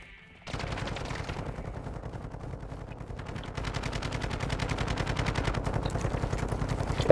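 Rapid automatic gunfire rattles without a break in Call of Duty: Modern Warfare II co-op on the Mt. Zaya map, dense and loud, continuing from just after the start to the end.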